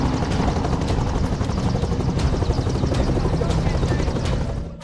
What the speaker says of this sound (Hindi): वायुसेना का मी-17 हेलीकॉप्टर गुप्त काशी के मोर्चे पर डटा हुआ है